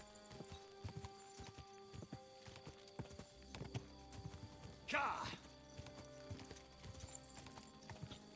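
Horse hooves clip-clop in a steady rhythmic trot in the video game Kingdom Come 2, moderately close, with a brief snort or whinny midway and someone talking over it.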